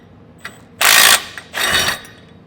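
A ratchet wrench with a 9/16 socket snugging down nuts on a strap while fitting rear air bag suspension to a 2017 Chevrolet: two close, loud bursts of rapid ratcheting clicks separated by a brief pause.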